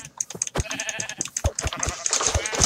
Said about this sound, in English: So I'm gonna murder these sheep.